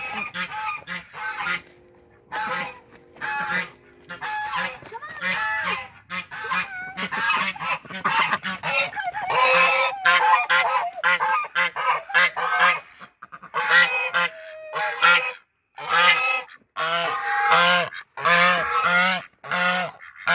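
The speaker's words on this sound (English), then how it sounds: "Today I'm going to let the ducks and geese out of the garden fence." Domestic geese and ducks being let out through a garden fence in the morning make loud, close, repeated honking with a few quacks mixed in. The calls come in dense overlapping bursts separated by short pauses.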